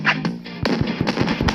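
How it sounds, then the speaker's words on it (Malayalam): Firecrackers burst in a rapid run of sharp pops and cracks, fairly loud and close, one after another in uneven rhythm. "പടക്കം പൊട്ടുന്നുണ്ടോ?"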